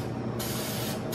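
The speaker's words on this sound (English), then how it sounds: "Jen, I'm gonna get so high off of spray paint" Spray paint can hissing in a steady, close burst that strengthens partway through, set against a marble hydro-dipping craft project indoors.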